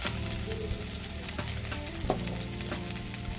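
Eggplant frying in a pan over a low gas flame for a village-style Bengali dish, a steady close sizzle with a few soft clinks of stirring, and no talking.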